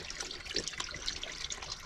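Water runs from a tap in a steady, faint splashing trickle, heard close and on its own without voices.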